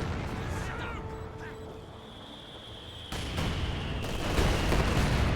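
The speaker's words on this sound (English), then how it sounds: "Great mortar hits there." Mortar shells landing in the strategy game Company of Heroes 2, a few heavy booming impacts near the end that rise over a steady low battlefield rumble and scattered faint gunfire.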